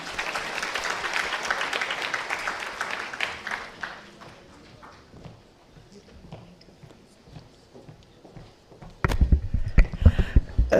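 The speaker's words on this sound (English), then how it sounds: "Another round of applause, please." Applause from a conference audience at a health event, dense and loud at first, then thinning and fading over several seconds before a burst of louder noise near the end.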